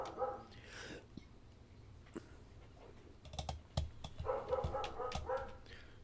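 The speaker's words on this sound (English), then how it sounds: "Dog's going nuts upstairs, if you can hear that." A dog barks upstairs in a house, a few faint, scattered yelps and barks heard indoors alongside keyboard typing and quiet room noise.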